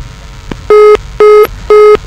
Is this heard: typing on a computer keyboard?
no